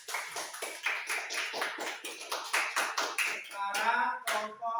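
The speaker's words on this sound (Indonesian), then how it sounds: "tepuk tangan buat teman kalian yang sudah maju" Classroom students clap for classmates who have just presented, a quick, steady run of close, sharp claps before a voice begins talking near the end.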